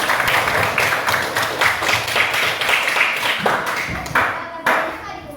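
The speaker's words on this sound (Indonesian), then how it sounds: "Ya Bu, beri tepuk tangan untuk kita semua." A classroom of students claps together at the end of a lesson, a dense patter of many hands lasting the whole stretch, fairly loud and close, with scattered children's voices mixed in.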